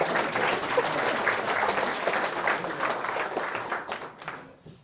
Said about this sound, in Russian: Похлопаем человека.